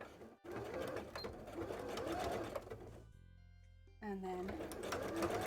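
Embroidery machine sewing a zigzag stitch while cosplay pieces are made, running steadily and close, briefly stopping near the middle before starting again, with a person talking over it.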